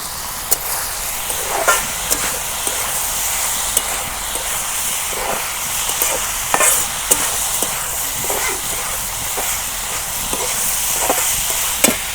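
Cabbage fries village-style in plenty of oil in a steady, loud sizzle, broken by regular scraping clicks as a metal spatula stirs it.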